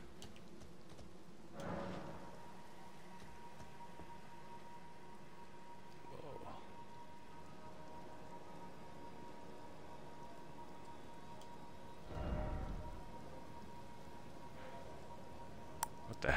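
Steady, soft hiss of acid rain pattering through the Elden Ring game world, a continuous wash with a few brief louder surges and faint ticking.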